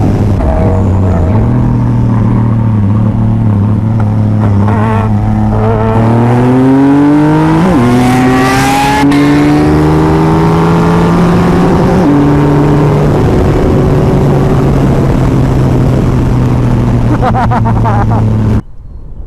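A Kawasaki H2 motorcycle engine revs hard and loud, rising in pitch through the gears with a brief shift dip, sustained close by for most of the time before cutting off abruptly.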